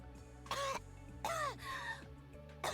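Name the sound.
coughing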